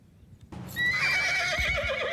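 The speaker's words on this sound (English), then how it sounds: "Settle down, horsey. Settle down." A horse gives a loud, wavering whinny in the Mount & Blade 2: Bannerlord battle game, rising sharply and holding close and clear, with faint hoof thuds underneath.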